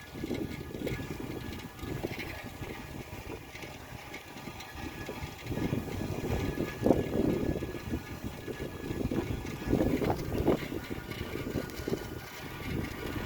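Wind buffets the microphone while riding a bicycle on a morning road, a continuous low rumbling roar that swells and eases in irregular gusts, with no talking.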